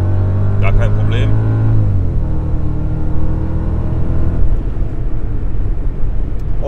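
A Mercedes CL 55 AMG with original exhaust and manifolds revs and accelerates loudly nearby during a traction test, its pitch sliding upward before settling into a rougher, sustained roar.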